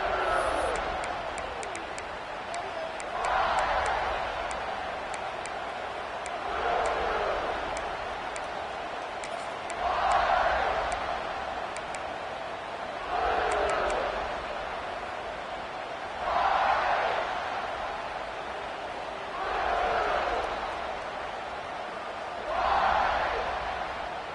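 Stadium crowd roaring in a college football video game, swelling in loud rhythmic waves every few seconds over a constant broad background din.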